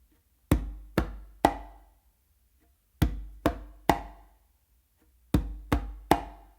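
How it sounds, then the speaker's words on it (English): A conga tumbao: a bass finger stroke from one hand, then a close slap from the other. Three sharp, dry hand strikes come in quick succession, and the group repeats three times with short pauses between. "a bass finger with my non-dominant hand on the"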